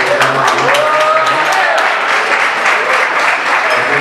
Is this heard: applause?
yes